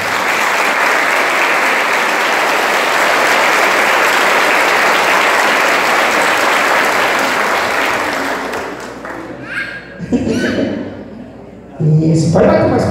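A Mass congregation applauds loudly and steadily for about eight seconds, a dense wash of clapping that then fades into scattered claps as a voice speaks.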